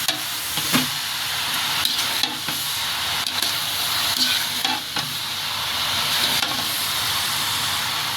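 Continuous frying hiss from a pan of Malabar spinach and potatoes, broken by repeated scraping and tapping as the greens are stirred around.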